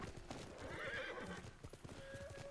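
A horse in the Ghost of Tsushima video game whinnies while hooves clip-clop in a quick steady rhythm beneath it, the neigh rising in the middle and fading toward the end, heard fairly quietly with no talk.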